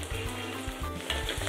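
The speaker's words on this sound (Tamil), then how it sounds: "எல்லாத்தையும் போட்டு நல்லா வதங்கட்டும்" Steady sizzling of onions, green chillies and ginger frying in a hot pan for Kerala fish curry, a dense continuous hiss with occasional soft stirring bumps, close and fairly loud, no voices.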